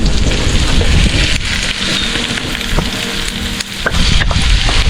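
Ground meat sizzles and crackles in a hot pan while corn is cooked as a main dish, a loud, continuous spattering hiss with scattered pops and no talking.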